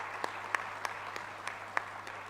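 At an international university conference, a few scattered hand claps ring out, about seven separate faint claps spaced irregularly over a quiet room tone rather than a full round of applause.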